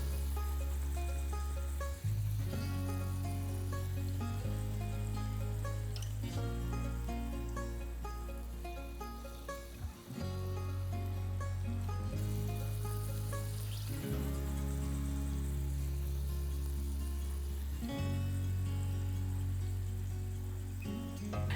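Pieces of marinated kupa fish sizzling and frying in hot oil in a pan, a steady crackling sizzle with occasional pops, close and continuous throughout.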